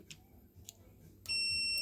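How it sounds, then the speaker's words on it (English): A few faint clicks and taps, then a steady electronic continuity beep from testing the trigger switch of a Milwaukee M18FCS66-0 starts abruptly and holds at a constant high pitch, loud and close. "We should have that beep"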